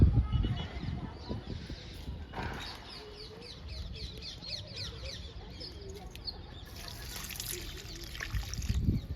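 Liquid fertilizer poured at the base of a drumstick plant among vegetable plants: a soft, steady trickle of liquid, with chickens clucking and other birds in the background outdoors.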